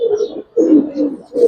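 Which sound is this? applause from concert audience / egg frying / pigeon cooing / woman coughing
pigeon cooing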